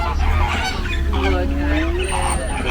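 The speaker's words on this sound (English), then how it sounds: "Got some greater flamingo, left-hand side." Greater flamingos calling with honking, goose-like cries during a safari ride at Disney's Animal Kingdom, heard over a constant low rumble of the ride vehicle.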